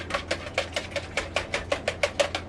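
Eggs and liquids for crepe batter being whisked or stirred in a bowl, producing a quick, even series of about a dozen light clicking taps, close and alone.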